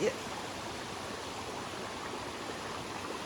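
Mountain waterfall on a hike, a steady broadband rush of falling water that stays even and continuous throughout, close by and fairly loud after a brief bump at the very start.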